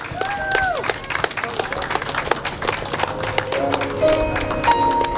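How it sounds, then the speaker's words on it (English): Crowd applause at an outdoor street dedication ceremony, sharp scattered hand claps alongside overlapping voices and background crowd noise. "Everybody, a round of applause, please. Hand clap."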